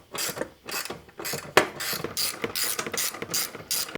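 A ratchet wrench on a double extension turning a 17 mm bolt on the underside of a first-gen Tacoma truck camper, giving quick, evenly repeated clicking strokes, fairly close and clear with no talk.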